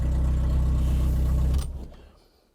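A car engine idles loud and close through a homemade stainless steel exhaust with no catalytic converter, a steady low drone that cuts off about halfway and fades into near silence.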